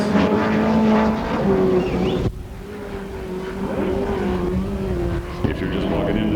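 A USAC Western States midget race car runs a qualifying lap at Perris, California, its engine droning loud and steady with pitch sweeps as it powers through the turns, under faint announcer talk.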